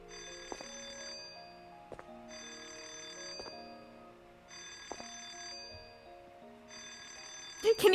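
A telephone rings in repeated bursts of bright electronic tones, about four rings spaced evenly apart and fairly loud and near, with a short clatter right at the end.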